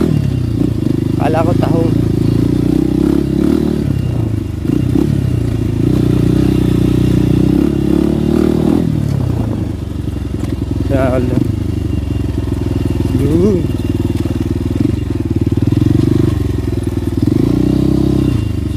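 A motorcycle runs close by at steady throttle with rattling clatter, under ongoing talk in Tagalog, the engine drone continuous throughout.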